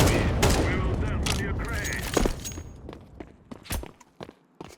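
Video game gunfire starts as dense rapid volleys under a talking voice, then thins into sparse, sharp single shots and short bursts.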